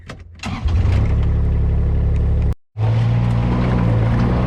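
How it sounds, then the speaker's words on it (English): A tractor engine on a field doing seedbed prep, running loud and close with a steady low rumble, starting up and revving, with a brief cutout in the sound midway. "here we can serve a tractor in its natural habitat"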